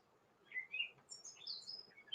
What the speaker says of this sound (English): Just the birds, maybe a little clip clop of the dog's feet on the deck